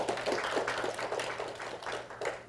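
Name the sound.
audience applause for a forum speaker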